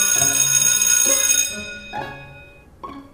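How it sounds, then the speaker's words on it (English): A school bell rings in a few bright, ringing strikes that each sustain and slowly fade, with the last strokes quieter and more spaced out, heard close and alone without talk. "Well, I'm afraid that was the bell."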